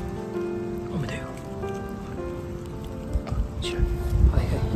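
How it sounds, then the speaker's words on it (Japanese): Rain patters steadily outdoors around grazing animals, a soft continuous hiss under a person talking intermittently, with some rustling and footsteps. "雨だよ。"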